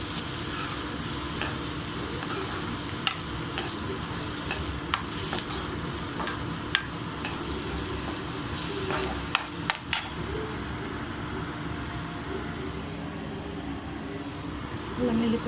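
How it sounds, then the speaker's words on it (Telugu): Ginger garlic paste fries in a pan with turmeric while being stirred, a constant close sizzle under occasional scraping clicks of the spoon, with a faint fan hum and a voice speaking at times. "అల్లం వెల్లుల్లి పేస్ట్, పచ్చి వాసన పోయే వరకు ఫ్రై చేసుకుందామండి"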